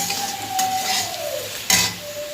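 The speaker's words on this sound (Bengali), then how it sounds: "আলু ভাজা হচ্ছে এখন" Potatoes frying in a pan on a home stove, a steady close sizzle with stirring scrapes and a brief clatter of a utensil against the pan, plus a thin whistling tone running underneath.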